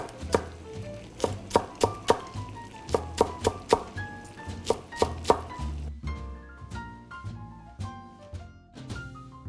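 A knife chops green onion on a cutting board in a home kitchen, sharp regular thunks landing in quick bursts, close and clear, the later strokes lighter and faster with no talking.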